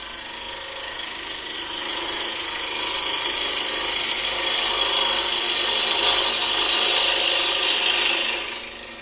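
A standard grind bowl gouge cuts into a spinning wooden bowl blank on a lathe, giving a steady, close, loud rushing scrape that swells through the middle and eases off at the end.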